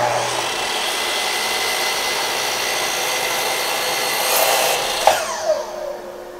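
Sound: sliding compound miter saw cutting wood

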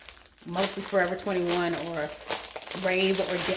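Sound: crinkling of plastic packaging while unpacking dresses

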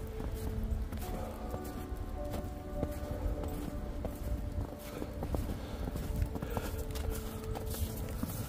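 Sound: footsteps walking through heavy wet snow

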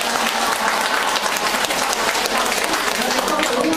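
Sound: audience applause

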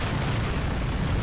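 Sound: missile explosions in the video game War Robots

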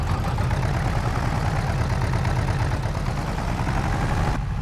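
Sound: small tractor engine straining under load in Farming Simulator 22 video game

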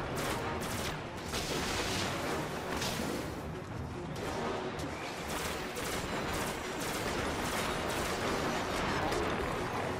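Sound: gunfire at a boss in the video game Destiny

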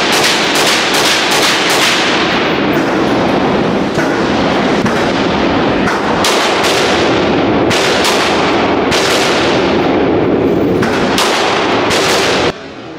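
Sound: rifle gunfire at a shooting range

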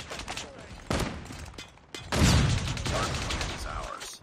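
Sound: gunfire shooting a Goliath in a video game

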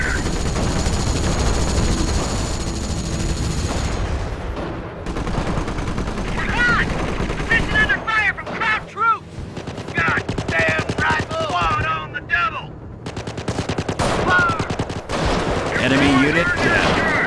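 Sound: gunfire in Company of Heroes video game battle

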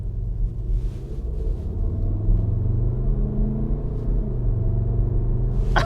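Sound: car engine sound played through rear speaker

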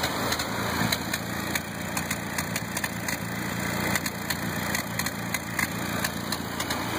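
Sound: engine idling with exhaust rumble

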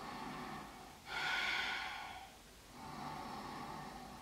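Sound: deep inhale breath during yoga exercise

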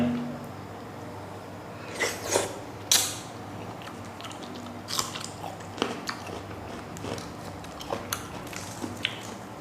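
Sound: eating crunchy mantis shrimp marinated in fish sauce

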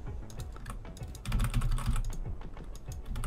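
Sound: typing on a computer keyboard

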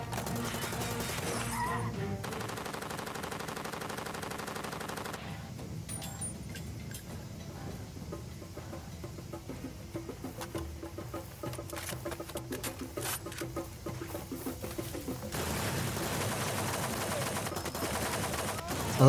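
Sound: machine gun fire in video game Far Cry 2

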